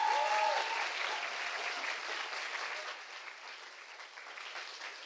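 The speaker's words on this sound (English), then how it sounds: "So if you can join me in giving them another round of applause" An audience at an innovation competition final applauds the teams, a broad, even wash of clapping from many hands that starts strong and slowly tapers over about five seconds.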